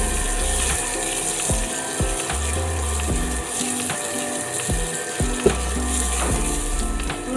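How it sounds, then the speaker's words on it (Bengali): Chopped garlic and green chillies sizzle steadily in a hot pan, with repeated scraping and clicking strokes from stirring and no voices. "রসুনটা আমার ভাজা হয়ে গেছে।"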